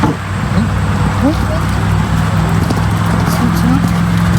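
A horse cantering during a show outing, its rhythmic hoofbeats repeating steadily under a constant low hum and ambient noise.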